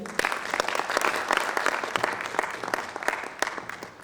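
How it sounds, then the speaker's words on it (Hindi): An audience at an evening poetry gathering breaks into applause, a dense patter of many hands clapping steadily throughout with frequent sharp individual claps standing out. "तालियां जाएं।"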